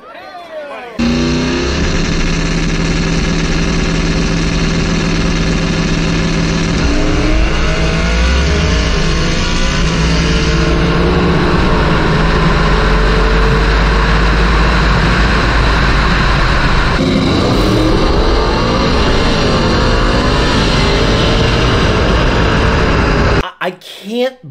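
A Mustang or similar performance car accelerating hard, its engine roaring loudly and steadily with audible breaks at the gear shifts, a long continuous pull from start to finish.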